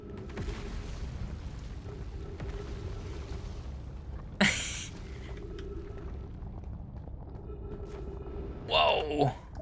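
A cannon in the space exploration game Outer Wilds fires to launch the player, giving one sharp whooshing burst midway and a second rising, whistling launch near the end over a steady low ambient drone.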